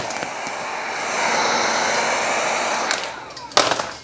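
A heat gun warms vinyl wrap on a Tesla Model Y, giving a steady, close airy roar that swells slightly, then dips near the end before a brief clatter of handling noise.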